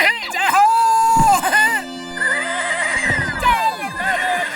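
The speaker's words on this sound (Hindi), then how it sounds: "चल मेरे घोड़े।" A cartoon horse neighs in an animated film, with loud, shrill whinnies that rise and fall in long, wavering calls, several in a row with short gaps between them.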